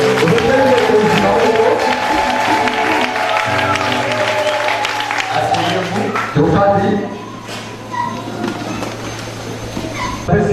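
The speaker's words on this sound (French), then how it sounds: "Applaudissons pour le Seigneur." Congregation applauding at a church gathering in Impfondo, broad steady clapping that fills the space throughout, with singing or voices layered over it and a dip in intensity near the end.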